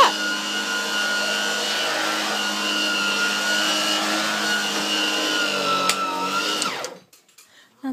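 G-Tech handheld battery-operated vacuum cleaner running on carpet pile: a steady, close, high-pitched motor whine holding for about seven seconds before cutting off abruptly, then near silence.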